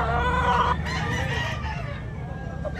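A 15-month-old Bolik fighting rooster crows nearby at a gamefowl market in Tabunok, Cebu, a single loud call trailing off while faint background murmur continues.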